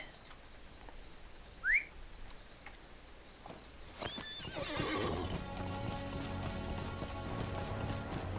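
Horse in Lord of the Rings Online neighs once early on, then after a few seconds of quiet ambience its hooves break into a steady, close clip-clop as it is ridden.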